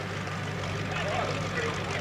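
A pulling tractor roars steadily at full throttle at the 1986 Colbinabbin tractor pull, wheels spinning with little grip, loud and continuous as a commentator talks over it.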